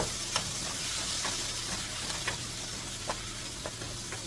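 Tomato goes into a hot pan for pasta Napolitan and sizzles continuously, a dense close frying hiss with small sputtering pops scattered through it, no talking.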